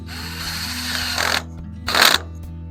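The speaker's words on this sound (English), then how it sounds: "Now the reason I pre-drill up my holes" A power drill whines steadily, then surges in two short bursts as it pre-drills holes into wood, close by with no talking.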